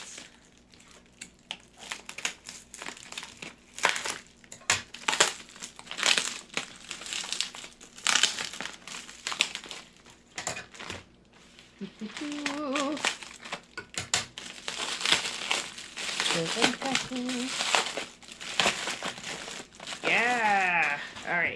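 Plastic wrapper crinkles and crackles in bursts while 4 Clans 20 Random Spells booster deck cards are unpacked, close and busy throughout, with a person talking over the later part.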